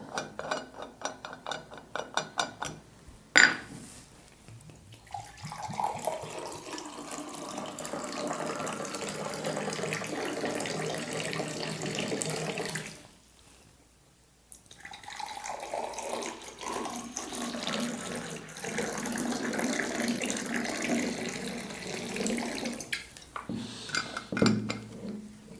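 Water runs steadily from a kitchen tap in two long stretches separated by a short break, with dishes and cutlery clinking near the start and end; no one speaks.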